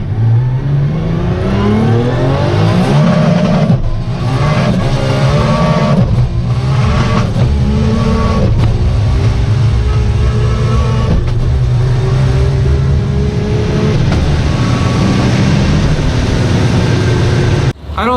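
A 1650 HP Toyota Supra street car with a sequential transmission and 60 psi of boost revs loud and close, its engine note climbing and falling in a sustained roar for about eighteen seconds with no talking.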